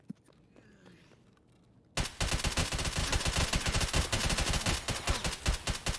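Automatic gunfire in the video game Escape from Tarkov, starting abruptly after a quiet stretch of faint background sound, then loud dense rapid bursts of shots continuing to the end.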